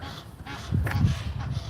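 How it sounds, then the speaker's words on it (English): Geese honk and squawk as they flee from a dog outdoors, a short burst of harsh, close calls that peaks midway and then trails off into brief, fainter honks. "There's a geese running away from the dog."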